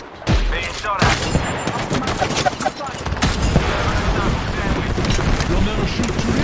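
Gunfire in an Apex Legends match played as Gibraltar, loud rapid bursts and rattling shots that start abruptly and keep going as dense, continuous combat noise.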